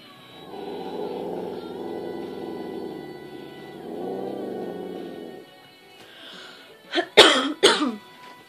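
A person imitates a dog's growl with low, rumbling throaty growls in two long stretches, followed by a few sharp, raspy bursts near the end.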